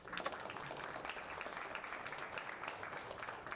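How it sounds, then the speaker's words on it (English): A round of applause at a startup meetup, many people clapping together in a room, fairly faint and steady, with sharper individual claps standing out near the start. "I'd just love to give a huge round of applause to Suman."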